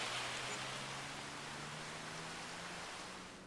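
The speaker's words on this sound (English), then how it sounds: "it sounds like it's raining quite a bit" Rain in the farming video game Farming Simulator 25, a steady broadband hiss of heavy downpour with a faint low engine hum beneath, fading slightly toward the end.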